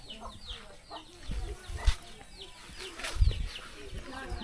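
Chickens cluck softly around a rural village yard, with scattered short calls and faint outdoor noise, a few louder thumps mixed in.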